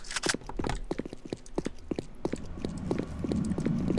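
Footsteps in the Korean shooter Sudden Attack, a quick run of sharp, evenly spaced steps that start loud and grow slightly fainter over a rising background noise.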